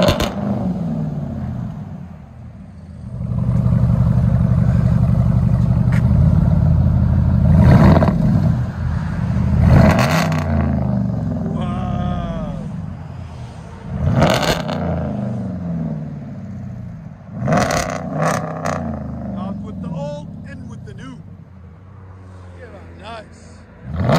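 A 2021 RAM 1500 with a 5.7L HEMI V8 and straight-piped true dual exhaust revs hard several times, its deep, throaty roar rising and falling close by, with people talking around the blasts.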